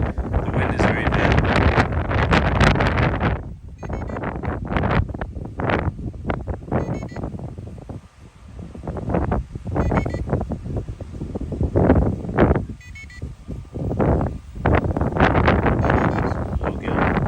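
Strong outdoor wind buffets the microphone in loud, rumbling gusts with brief lulls between them.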